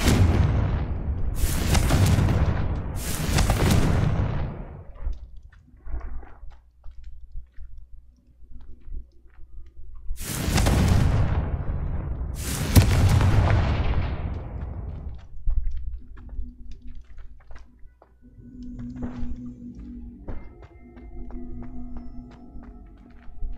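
Confringo blasting curse explosions in a video game: four loud, close booming blasts in two pairs, each fading into rumble, followed by quieter game clicks and tones.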